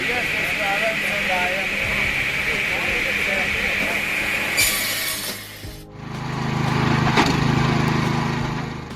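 A homemade automatic firewood processing machine runs with a continuously cycling splitting wedge, a loud steady engine drone with cracking wood, shifting in tone partway through as a voice talks over it.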